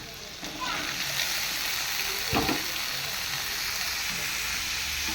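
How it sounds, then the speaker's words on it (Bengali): Ridge gourd frying in oil in a pan, a faint continuous hiss and sizzle with one brief stirring rattle midway, heard close and quiet. "ঝিঙেটা ভালো করে নাড়াচাড়া দিতে হবে যাতে তেলটা ঠিকভাবে চারিদিকে যায়"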